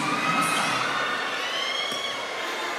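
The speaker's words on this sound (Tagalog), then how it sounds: "big crowd here today" A big crowd at a volleyball league finals game fills the arena with a steady roar of cheering and shouting, continuous and fairly loud throughout.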